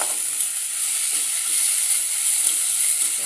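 Radish chutney ingredients, with a pinch of asafoetida, sauté in a pan. A steady, even sizzle and hiss of frying runs throughout with no pauses, fairly close and without any talk.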